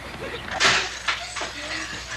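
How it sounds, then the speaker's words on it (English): A door slams in a suburban family home, one sharp bang followed by softer knocks, with faint voices around it. "Don't slam the door, Daphne."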